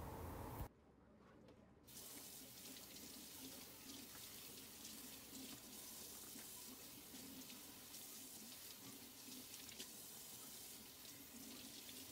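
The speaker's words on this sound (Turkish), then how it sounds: "4 ya da 5 adet kuru yufkayı musluk altında iki taraflı olarak ıslıyorum" Tap water running steadily over dry yufka pastry sheets held under a kitchen faucet, a continuous close splashing gush after a brief break at the start.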